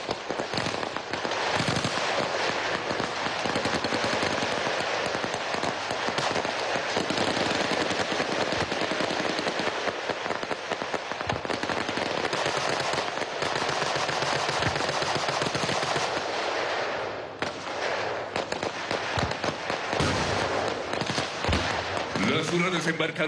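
Dense military exercise gunfire from troops landing and advancing, with 60 mm mortars, RPG-7 rocket launchers, 7.62 mm FAL machine guns, rifle grenades and rifle fire crackling continuously and loudly for the whole stretch, with voices mixed in.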